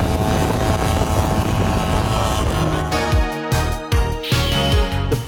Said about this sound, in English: The stock expansion chamber is swapped out for an aftermarket pipe.